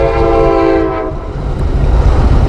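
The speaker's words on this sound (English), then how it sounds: "Sorry for the noise from the train." A train horn blares loudly for about a second over the heavy, steady rumble of a passing train, and the rumble continues after the horn stops.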